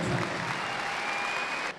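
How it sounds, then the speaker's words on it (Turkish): A crowd applauds a minister at an event handing out sports equipment to students in Gaziantep, with a brief burst of dense clapping that cuts off abruptly near the end. "Sayın Bakanımız Fatma Şahin'e kocaman bir alkış rica ediyorum."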